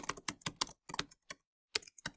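Quick clusters of keystrokes on a computer keyboard while entering labels into a spreadsheet, close and crisp, with short pauses between bursts.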